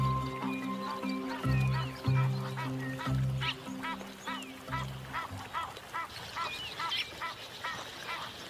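Egyptian geese by a stream, a pair foraging on aquatic plants, give repeated honking calls in a steady pulsing rhythm, close and fairly loud, with harsher chattering calls over a faint outdoor background.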